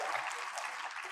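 An audience claps steadily in a dense, even burst of applause, close and fairly loud.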